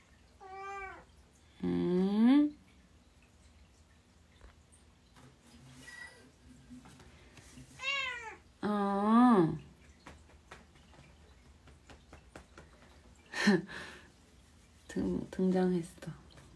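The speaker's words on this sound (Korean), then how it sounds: "고양이" A pet cat meows repeatedly in a quiet indoor room, drawn-out cries in several separate bursts with pauses between them, close and fairly loud.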